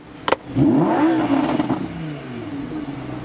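A 2017 Lamborghini Huracan Spyder's V10 blips and revs, the engine note rising sharply then easing off into a lingering drone, loud and close after a brief clack.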